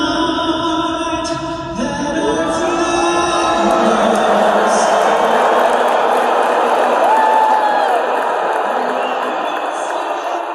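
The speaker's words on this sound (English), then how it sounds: "More loud boos erupting when Trump's face was shown on the big screen." A large US Open tennis stadium crowd roars in a loud, sustained wave of booing aimed at Donald Trump, dense and continuous, with whistles and shouts rising through it.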